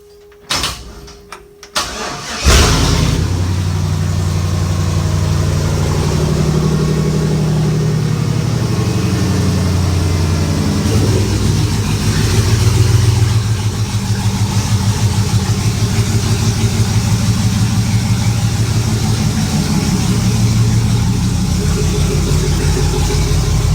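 Studebaker pickup rat rod engine with no mufflers cranking and catching after a couple of seconds, then running loud and rough at a steady idle with a deep rumbling exhaust throb, briefly revving around twelve seconds.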